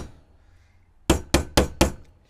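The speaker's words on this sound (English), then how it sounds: "need to use a hammer and not break the fan in the process" Four sharp hammer blows ring out in quick, even succession as a viscous fan clutch is knocked onto the bolts of a BMW E32, each a loud metallic strike with a short clinking decay after near silence.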